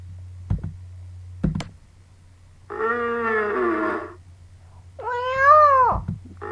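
Two distinct cat meows sound close and clear, one in the middle and a second rising-falling one near the end, separated by a couple of sharp clicks over a low steady hum.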